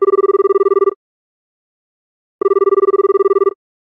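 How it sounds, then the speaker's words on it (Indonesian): A telephone ringback tone on an outgoing call sounds as two loud, buzzing rings, each about a second long, separated by roughly a second and a half of silence, with no voices. "Coba gua telepon Sipol aja deh"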